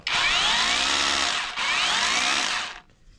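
Loud, sustained whine of a cordless OSUKA three-mode rotary drill motor running close by, with a brief dip near the middle before spinning down at the end.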